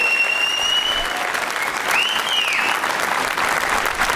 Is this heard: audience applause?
yes